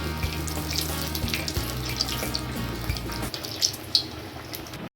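Potato koftas frying in hot oil give off a steady, close sizzling hiss that runs for about five seconds and then stops abruptly.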